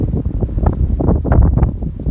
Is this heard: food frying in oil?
no